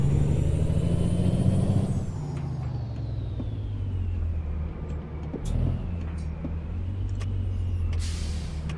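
Truck engine in American Truck Simulator, driving near Oxnard, California after loading at Chevron, throttling up with a steady low rumble; an air-brake hiss near the start and a brief rise in revs midway, with no talk.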